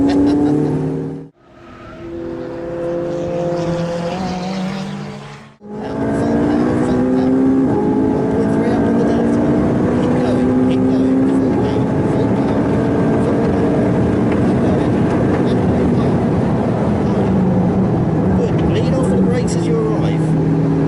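A McLaren 675LT on a racetrack accelerates hard, its engine note climbing loudly after two brief drops in sound, then a sustained, rising roar dominates the rest, with a voice speaking over it.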